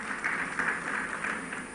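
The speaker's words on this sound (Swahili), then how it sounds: "Apigiwe makofi." A crowd of mourners at a funeral service claps for an honoured guest, producing a continuous, moderately loud burst of applause with no talking over it.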